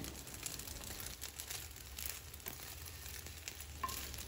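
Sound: egg pieces frying in a pan

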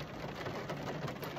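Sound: rain falling

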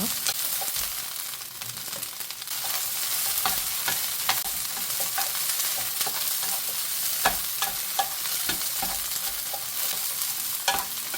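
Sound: stir-frying shishito peppers in a pan

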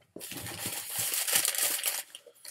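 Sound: crinkling gift wrapping paper being unwrapped

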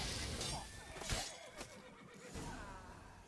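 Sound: horses neighing in video game Witcher 3

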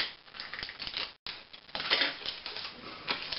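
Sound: tape being applied to a ball

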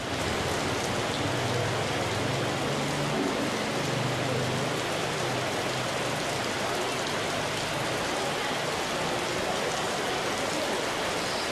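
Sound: rain falling on Tioman island

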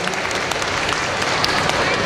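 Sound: audience applause

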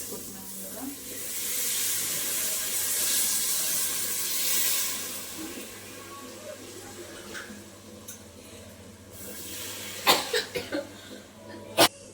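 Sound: adding water to the pan while cooking egg rice

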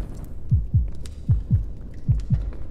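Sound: heartbeat sound in video game Forewarned

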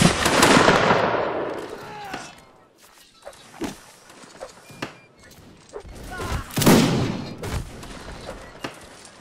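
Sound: musket gunfire in a line battle, from the video game Mount & Blade

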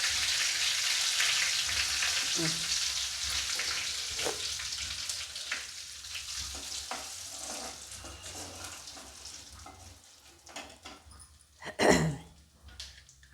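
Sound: curry leaves and asafoetida frying in oil for chilli pickle

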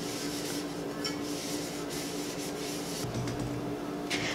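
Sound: wiping down a sanded tumbler cup with alcohol

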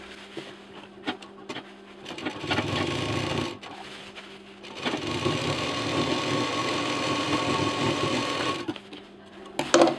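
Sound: sewing machine stitching a shopping bag

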